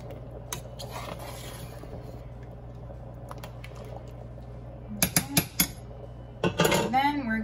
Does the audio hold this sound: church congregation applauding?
no